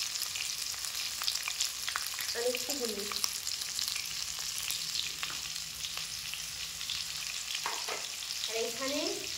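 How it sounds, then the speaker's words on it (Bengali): Potatoes frying in oil in a pan while Bengali aloo dum is cooked, a continuous steady sizzle with occasional stirring scrapes and a short spoken remark over it. "এই আলুটা ভাজার সময় আমি একটু লবণ দিয়ে নিচ্ছি"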